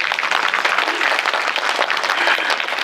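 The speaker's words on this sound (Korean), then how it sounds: "박수 부탁드립니다." An audience breaks into applause after a film screening at a cinema during a Q&A session, a dense, steady wash of many hands clapping, loud and continuous throughout.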